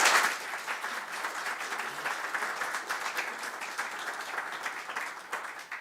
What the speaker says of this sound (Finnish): Annetaan raikuvat aplodit hänelle vielä.